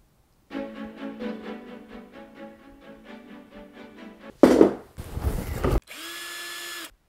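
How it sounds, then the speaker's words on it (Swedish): A power drill whirs in a steady pulsing run, followed by a few short harsh bursts of grinding and a final whining spin-up, close by. "det borras, alltid när man ska filma så borras det"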